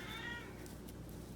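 A cat meows a few times indoors, a short rising and falling call near the microphone, heard alone without talk.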